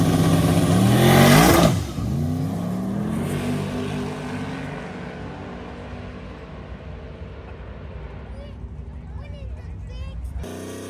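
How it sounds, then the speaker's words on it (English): An old Chevy II convertible drag car launches and revs hard on a drag strip, loud and close at first, then its engine note fades into the distance as it makes its pass. "the old convertible Chevy 2 is up to make a pass"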